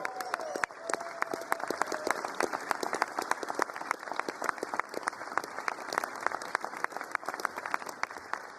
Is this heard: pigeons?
no